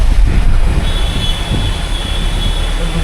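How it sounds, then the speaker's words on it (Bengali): Turbocharged engine of an intercity bus travelling from Kolkata to Siliguri through Kolkata streets, a steady loud rumble with a thin, high turbo whine rising in and holding throughout, no voices. "টার্বোর আওয়াজটা হেভি লাগে।"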